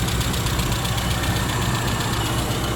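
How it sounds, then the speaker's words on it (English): A restored 1991 Rover Mini City-E with its 1000 cc engine idles steadily and close by, a continuous low mechanical rumble and hum with no talk over it. "that's the engine"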